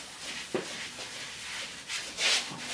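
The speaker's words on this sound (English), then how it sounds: "I could gently rub on a point" Hand gently rubbing on a point during a qigong massage, producing faint, close brushing and swishing strokes that come in soft repeated waves with no talk.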